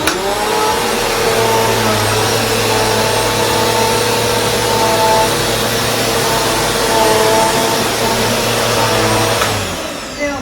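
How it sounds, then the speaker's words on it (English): A Bissell 2254 CleanView Swivel Rewind Pet upright bagless vacuum cleaner runs loudly and steadily with a constant motor whine, then shuts off and winds down at the very end. "So this vacuum cleaner is totally amazing, especially in handheld mode or upright mode"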